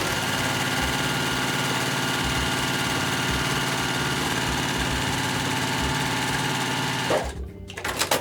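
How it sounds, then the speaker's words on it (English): A sewing machine stitches a fabric strip set sewn right sides together, running in a steady, continuous close whir for about seven seconds before it stops. "I'm gonna sew down the length on both sides of this strip set here"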